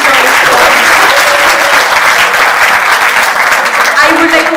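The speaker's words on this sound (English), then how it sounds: "Please give them a big round of applause." Loud, continuous applause from an audience at a training program valediction, honoring the lady staff, many hands clapping steadily throughout with a murmur of voices beneath.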